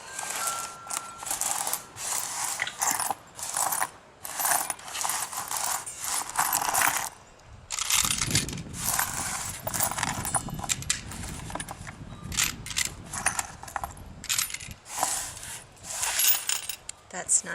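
Metal washers clink and jingle in repeated short bursts as they are set down on fabric, close and fairly loud, with pauses between.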